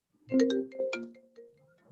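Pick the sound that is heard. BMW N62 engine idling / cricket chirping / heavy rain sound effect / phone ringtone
phone ringtone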